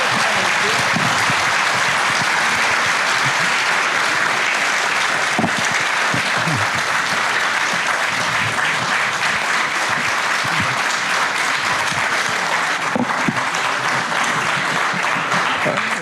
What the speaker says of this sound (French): Vous allez pouvoir applaudir l'ensemble des candidats.